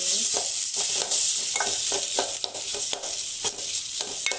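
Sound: boiled potatoes and spices mixed in a pan with a spoon

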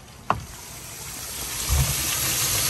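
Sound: water pump pumping water out of backyard pool pond

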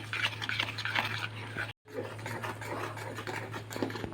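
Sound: stirring milk into avil payasam in a pot

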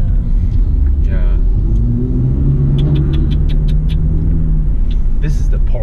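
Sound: Porsche 997 engine revving

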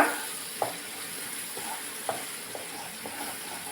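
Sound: crackling sizzle of frying in oil

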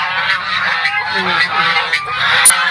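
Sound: geese honking

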